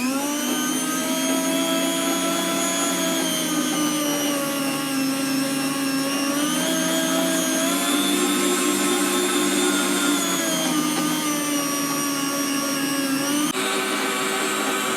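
An electric food slicer cuts beef for smoked jerky, giving a steady, loud motor whine with a constant pitch that dips and shifts slightly as meat passes through the blade, running continuously with no voices.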